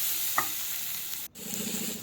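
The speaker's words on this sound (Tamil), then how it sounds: "இப்போ மஞ்சத்தூளும் கொஞ்சம் போட்டுக்கணும். போட்டு அதையும் நல்லா வணக்கிக்கணும்." Ground masala with turmeric frying in a pan for tomato kurma: a steady low sizzle with a single light clink of the stirring spoon and a brief break before the frying noise resumes, close and without talk.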